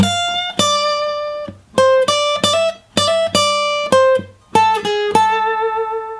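Acoustic guitar plays an unplugged solo lick, a phrase of clear plucked single notes and bends with a raked attack, bright and close, notes separated by short pauses.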